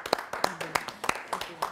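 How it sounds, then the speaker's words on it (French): Sparse, distinct hand claps from a small audience at a talk on Alzheimer's in Africa, individual claps spaced irregularly with a voice heard briefly among them. "On l'applaudit encore une fois."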